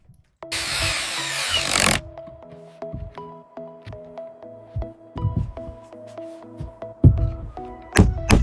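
A power tool drives screws into vertical wooden planks, with a burst of loud whirring followed by a series of sharp knocks and clatters of wood and tools in a steady working rhythm.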